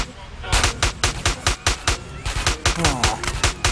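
Rapid bursts of gunfire in GTA Underground, a Liberty City mod, crack out in a loud, close, evenly spaced volley of about twenty shots, with a brief pause before the firing resumes.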